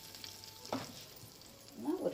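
Asafoetida and curry leaves hit hot oil in a pan for Tamil tomato kadayal, giving a steady soft sizzle with a few brief louder crackles near the end, close by and without talk.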